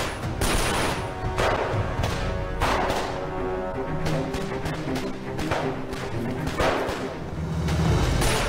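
Rapid bursts of gunfire crackle continuously amid a dense, noisy din, with sharp cracks recurring throughout and no pauses.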